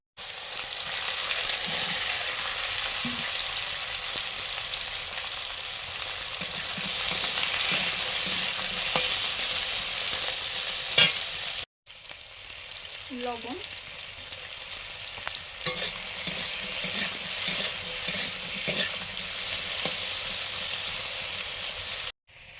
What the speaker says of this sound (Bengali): কচুর লতিটা হলুদ দিয়ে ভাজা করে নেব